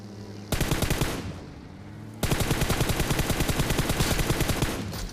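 Rapid automatic gunfire in the battle royale game PUBG, a short burst followed by a pause and then a longer sustained volley of loud, closely spaced shots, with no talking.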